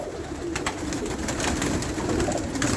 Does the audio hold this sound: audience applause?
no